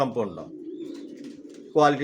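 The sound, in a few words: pigeon cooing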